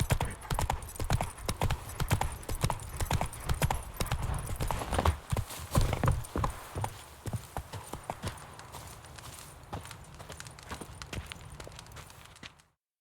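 A horse's hooves clip-clop rapidly in The Witcher 3 video game, a quick, steady drumming of hoofbeats close by that holds through most of the stretch before fading at the end.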